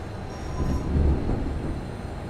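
Pendolino tilting train running past on the line near Wolverhampton, a low rumbling roar that swells and peaks midway with faint wheel squeal, then eases off without any speech.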